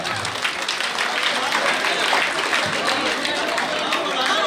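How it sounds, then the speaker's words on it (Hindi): An audience at an Indian Air Force anniversary gathering claps loudly, dense continuous applause with crowd voices mixed in throughout. "तो एक बार जोरदार ताली मारिए मैडम के लिए।"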